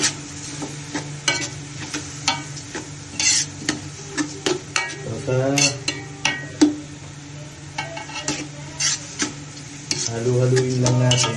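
Arroz caldo being stirred in a pan over steady frying sizzle, with repeated scraping and clinking strokes at an irregular rhythm, close and moderately loud throughout.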